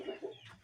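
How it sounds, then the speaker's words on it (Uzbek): Purebred hens and a rooster clucking nearby, two short soft clucks followed by faint rustling, quiet and brief. "Mana akalar tovuqlar ana"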